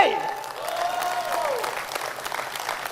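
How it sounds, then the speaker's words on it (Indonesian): A seminar audience applauds in a steady, dense patter of clapping, with a voice talking over the start. "Tepuk tangan untuk Riwe"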